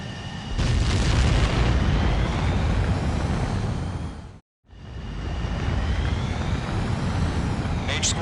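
A jet fighter roars on takeoff in Ace Combat 7: Skies Unknown, a loud sustained engine rush that cuts out abruptly, then swells back up.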